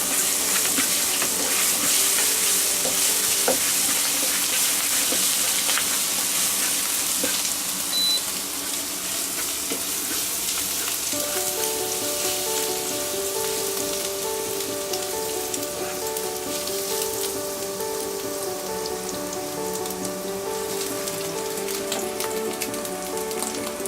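Garlic sizzles in hot oil for Asian-style fried rice cooked aboard in Le Marin, Martinique, a loud steady crackling hiss throughout with a faint tonal hum beneath.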